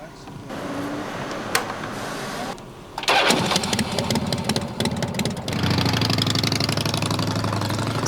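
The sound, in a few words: sidecar motorcycle engine starting and idling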